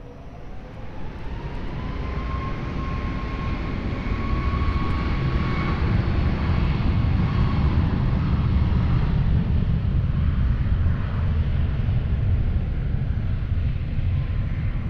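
A Ryanair airliner takes off from runway 20 at Lisbon Airport, its engines a loud, steady roar that builds and holds throughout, with a rising whine over the broad rumble and no talking.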